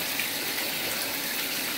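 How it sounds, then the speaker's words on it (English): A bathtub faucet runs steadily, filling the tub with a continuous broadband rush of water that stays even and close for the whole stretch, with no voices over it. "hang it underneath your faucet as your faucet's running"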